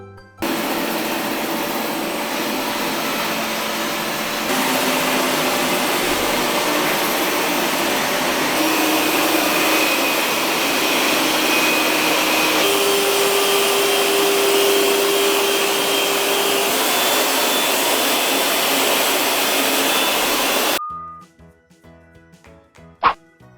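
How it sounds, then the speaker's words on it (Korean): Roborock S8 MaxV Ultra robot vacuum running loud and close, its suction roar stepping up in level across several power modes, then cutting off abruptly near the end, leaving near silence and a single click. "진공 청소로 들어가면 실시간 흡입력 조절이 가능한데요"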